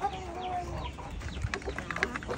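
Breeder chickens cluck and call in a farm coop, a busy overlapping chorus of hens with short clucks and calls throughout, close by and continuous, with faint background noise.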